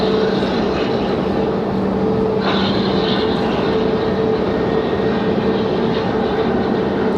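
A United Express Embraer E-175 regional jet operated by Mesa Airlines approaching at Raleigh Durham airport, a steady loud engine roar with humming tones and a rising whine partway through, heard alone without talk.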